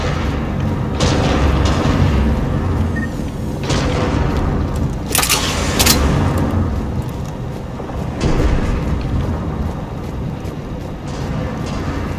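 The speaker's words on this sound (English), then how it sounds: "Those cannons have to be stopped." Heavy cannons boom repeatedly in Mass Effect 3 amid a loud, constant rumbling battle din, with sharp cracking blasts standing out near the middle.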